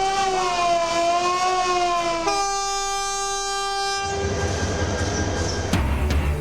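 A relief train out of Ishwardi in Bangladesh sounds its horn in long, loud, multi-tone blasts that shift pitch as it passes, followed by the heavy rumble of rail cars rolling by close at hand.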